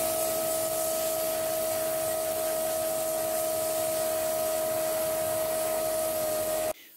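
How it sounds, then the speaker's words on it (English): Steady, harsh scrubbing of a wire brush cleaning Rover 45 front brake caliper parts, continuous and close with a constant high whine running underneath, stopping abruptly just before the end. "we have been cleaning all the brake parts up, but when we'd finished wire brushing them"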